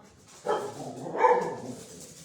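A house dog gives a couple of short, muffled barks or yips at moderate distance in a room, not very loud, with no one talking over them.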